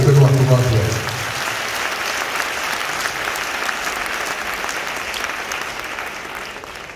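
Church audience applauding and cheering loudly at an evangelistic service, a dense steady roar of clapping and voices that starts strong and holds throughout.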